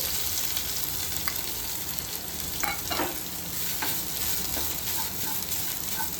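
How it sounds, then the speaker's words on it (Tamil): Grated coconut fries in hot oil for a Kerala-style roasted egg curry, with a steady dense sizzle and occasional scraping stirs of a spoon throughout, no voices. "ஆயில் சூடாயிடுச்சு இப்போ நம்ம ஒரு கப் தேங்காய் எடுத்து வச்சுருக்கோம் அதை போட்டுக்கலாம்"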